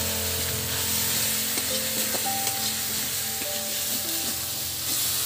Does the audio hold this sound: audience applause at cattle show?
no